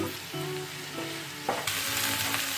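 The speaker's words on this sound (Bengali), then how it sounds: "আলু বিনসটাকে আমি ভালো করে মিশিয়ে নিচ্ছি" Potatoes and beans coated in spices are stirred in a hot pan, a steady sizzle running under scraping strokes of the spoon that get louder and busier toward the end, with no one talking.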